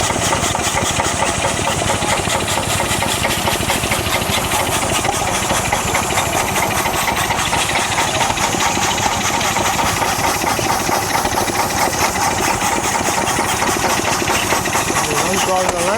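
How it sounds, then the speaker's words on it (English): An old Lister stationary engine driving air compressors at a steam fair, a loud steady rapid chugging and knocking that runs unbroken and close throughout, with people talking faintly in the background. "Big old Lister here. Driving compressors."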